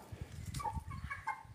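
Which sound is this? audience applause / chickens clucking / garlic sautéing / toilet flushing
chickens clucking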